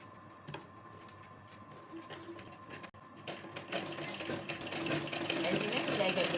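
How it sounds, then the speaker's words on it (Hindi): A sewing machine stitches piping onto a kurta in a rapid, steady mechanical clatter that begins quietly and builds louder over a few seconds, with brief talk early on. "ऐसे मैं सिलाई कर दूँगी।"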